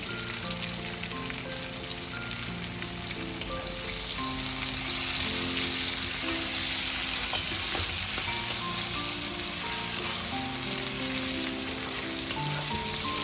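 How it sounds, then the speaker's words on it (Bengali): Chopped onions sizzle steadily in hot oil in a pan for the whole stretch, the frying close and loud and swelling slightly partway through, with no voices. "দেখো পেঁয়াজগুলো হাফ ভাজা হয়ে গেছে।"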